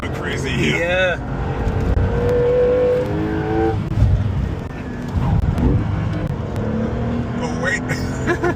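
A Porsche 911 Turbo S of the 992.2 generation on standard tires, driven sideways on a track, its engine roaring loud and steady under excited talk and exclamations.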